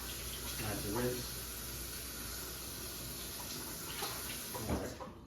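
Running tap water pours steadily over a sheet of rice paper being rinsed on both sides in a kitchen sink, a constant broadband splash with faint voice fragments underneath.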